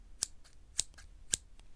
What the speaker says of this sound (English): that was my other sewing scissors that I use for snipping threads